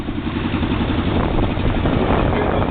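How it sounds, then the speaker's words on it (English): Yamaha Venture V-4 touring motorcycle carrying two riders, fully loaded, cruising at 20 mph in fifth gear; a steady low engine drone mixed with road and wind rumble, loud and continuous throughout. "Here's 20 miles an hour in 5th gear."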